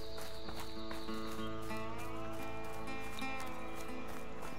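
Horse hooves clip-clop at a steady walking pace over a sustained synthetic musical drone, game audio from A Way Out.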